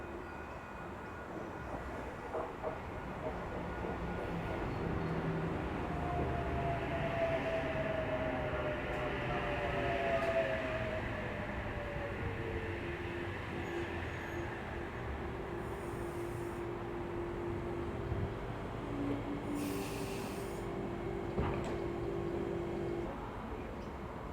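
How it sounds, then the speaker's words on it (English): An NSW TrainLink Oscar electric train set H28 pulls into platform 1 at Koolewong, a steady rumbling roll with a drawn-out whine sliding in pitch, heard close and continuous throughout. "Here we have an Oscar arriving to platform number 1 for a Central Sydney terminal service."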